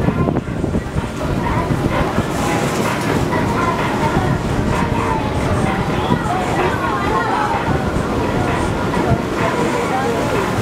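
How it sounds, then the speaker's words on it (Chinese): Strong wind gusts outdoors, buffeting the microphone with a loud, continuous low rumble that swells and churns throughout. "哇，风很大啊。"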